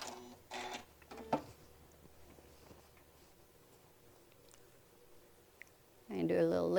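Sewing machine stitching a hobo bag lining piece with a quarter-inch seam, a short loud burst near the end after quiet handling noises and brief talk.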